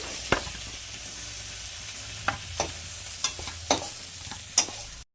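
Dry red chilies and black cumin splutter in hot oil for a tempering, a quiet steady sizzle marked by several sharp pops and spatula taps, with no voices.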